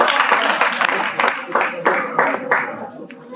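Housemates clap together during a cooking competition, giving a dense run of sharp, fairly close claps that come in uneven bursts, with some voices underneath.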